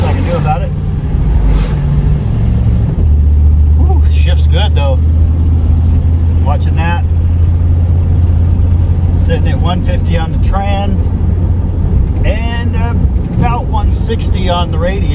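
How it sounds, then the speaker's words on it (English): An OBS dually truck with an exhaust leak drives along, its steady low engine drone and exhaust rumble running loud and continuous, with someone talking intermittently over it. "I really don't like that exhaust leak."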